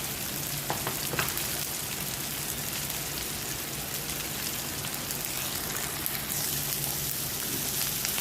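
Rui fish frying in a pan of hot oil with salt, turmeric and chili powder, giving a steady, close hiss of sizzling that runs unbroken and evenly loud with no voices.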